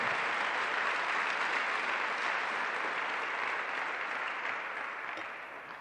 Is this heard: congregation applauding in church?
yes